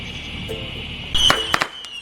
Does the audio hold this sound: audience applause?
no